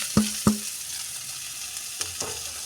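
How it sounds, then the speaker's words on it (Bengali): Vegetables frying in a pan with tempered mustard seeds and curry leaves, a steady close sizzle broken by a few sharp knocks of a spatula stirring against the pan. "এটা আমি 5 মিনিট ভাজবো।"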